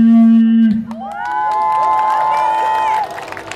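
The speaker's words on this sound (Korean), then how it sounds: "큰 박수로만 주시기 바라겠습니다." A street crowd cheers and whoops for a b-boy dance team at an outdoor street performance in Uijeongbu, Korea, rising after an announcer's voice and holding loud for a couple of seconds before easing off.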